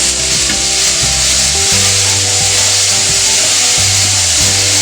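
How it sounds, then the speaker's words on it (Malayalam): Roasted-coconut chicken curry masala with ginger and curry leaves being sautéed over high heat: a spatula scrapes the pan in loud, regular strokes about every second over a constant frying hiss, with no talking. "ഇനി 1 തണ്ട് കറിവേപ്പിലയും കൂടി. ഇത് നന്നായിട്ടൊന്ന് വഴറ്റിയെടുക്കണം"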